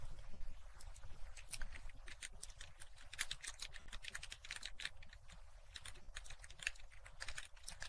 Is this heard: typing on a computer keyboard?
yes